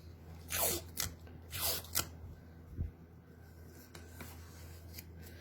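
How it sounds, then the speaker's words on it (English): Tape being pulled off the roll and pressed onto fabric to hold a zipper in place, with a few quick ripping, rubbing strokes close by and no talking. "we're also going to tape that in place"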